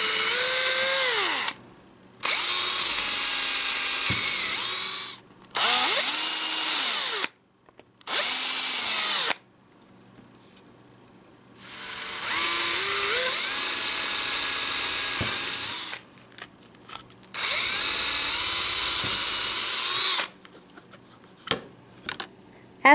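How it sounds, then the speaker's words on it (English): Power drill boring holes one at a time in a blank pup, several loud whining bursts separated by short pauses, close up with no talk. "Then you just drill each hole one at a time"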